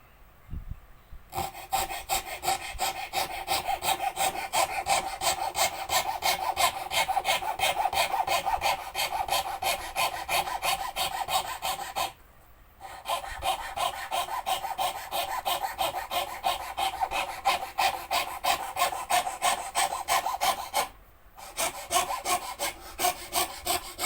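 A hand saw rasps through wood on a model long-tail boat's rib frame in fast, even strokes, close and continuous, stopping briefly twice before resuming.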